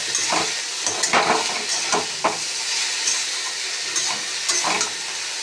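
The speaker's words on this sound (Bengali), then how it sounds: "সেদ্ধ করা এঁচোড় একটু ভেজে নিচ্ছি" Boiled young jackfruit fries in oil in a wok, a continuous close sizzle broken by repeated scraping strokes of a spatula and occasional metal clanks against the pan.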